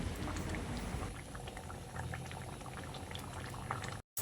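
Red lentil dal (masoor dal) bubbling steadily at a boil in a pot, with a dense, continuous close-up simmer of popping bubbles and no voices.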